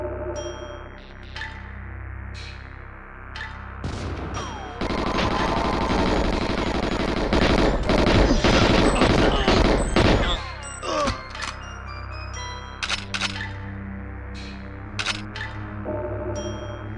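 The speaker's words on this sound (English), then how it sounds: "They're shooting through the ceiling." Enemy gunfire in GoldenEye 007 on Xbox Live Arcade, scattered shots leading into a long, dense burst of rapid automatic fire, then sporadic single shots as it tapers off.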